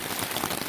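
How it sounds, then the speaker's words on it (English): Heavy storm rain drums on a tent at a campground, a dense, loud, continuous patter close overhead with no voices. "enjoying listening to the rain"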